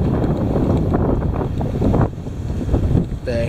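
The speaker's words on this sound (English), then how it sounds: "The heavy wind." Heavy wind blows hard and constantly across the microphone, a loud buffeting roar with gusty surges throughout and a brief tonal flutter near the end.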